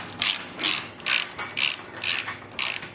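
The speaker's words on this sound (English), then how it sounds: "If we start tightening up this tie bar" A ratchet clicks in six quick, bright bursts at an even rhythm as a tie bar on a welding table is tightened, close and clear with no voices.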